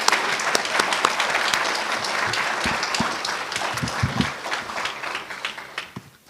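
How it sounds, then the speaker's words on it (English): A graduate student reception audience bursts into lively applause for an award winner: many hands clapping in a dense, bright patter that holds steady before thinning out and trailing off at the end. "One more round of applause."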